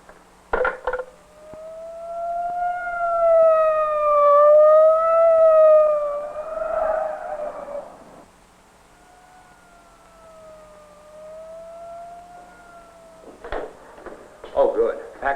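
A police motorcycle siren wails in rising and falling tones, loud at first and then fading to a softer steady wail, with brief clunks at the start and end.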